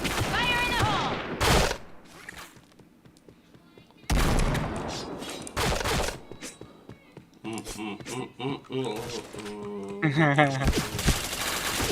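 Loud bursts of gunfire crack out in a shooting video game, separated by quieter gaps, with a voice and game sounds heard between the shots.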